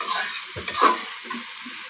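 Spices for a thin sand fish curry being fried in a pan, with a short stirring scrape or two over a bright hiss of sizzling oil, close and without voices.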